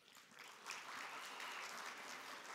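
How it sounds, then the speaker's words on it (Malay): A crowd at a Malaysian sepak takraw development programme launch applauds the Minister of Youth and Sports, a steady, dense wash of clapping that holds for a few seconds at moderate distance. "Yang berhormat Hanayoh, Menteri Belia dan Sukan Malaysia, kita berikan tepukan."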